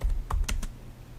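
A handful of quick keystrokes on a computer keyboard, close and crisp, with a brief pause between taps and no talking.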